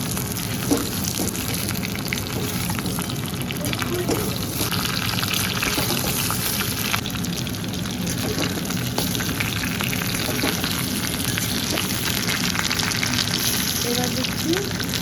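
Chicken pieces frying in a pan for chilli chicken, giving a loud, continuous close-up sizzle and crackle of hot oil that holds steady for the whole stretch, with faint stirring scrapes.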